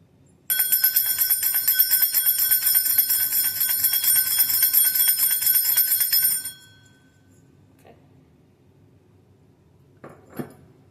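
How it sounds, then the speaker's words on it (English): A bright metal bell rings loudly and continuously for about six seconds, then stops, leaving near silence broken by a couple of faint knocks and a brief clink. "I'm going to ring the bell now."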